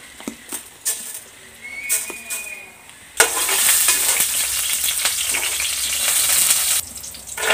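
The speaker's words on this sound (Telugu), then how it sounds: "జీలకర్ర కొంచెం పెసరపప్పు కూడా వేసుకుంటున్నాను." Cumin seeds and moong dal dropped into hot oil for tamarind rice, a few clinks before a sudden loud, steady crackling sizzle that fills the rest, close up with no talking.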